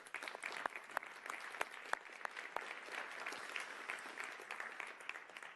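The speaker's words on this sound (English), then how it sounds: "please give a round of applause for Ana Carrasco" At a conference breakout session on women in leadership, an audience applauds motorcycle racer Ana Carrasco as she comes on stage: a fairly quiet, continuous round of clapping with a few sharper individual claps standing out.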